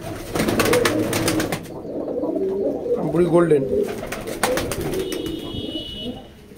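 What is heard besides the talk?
Rampuri Golden pigeon cooing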